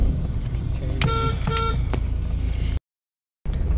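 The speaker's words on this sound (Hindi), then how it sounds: "क्या ट्रैफिक है भाई साहब" Heavy road traffic on a congested market road near Gopalganj, with a steady engine and tyre rumble and several car horns tooting in quick succession, loud and close, then a brief cut before the traffic noise resumes.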